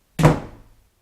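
A door, held slightly ajar by a towel rack on top, slams shut in a house with one loud, abrupt thud that fades quickly with a short resonant tail.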